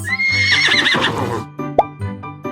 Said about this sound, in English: H is for horse